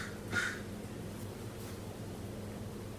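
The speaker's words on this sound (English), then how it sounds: "There's a bird outside." A bird calls outside a window, one short loud cawing note near the start and a fainter one later, over steady indoor room hiss.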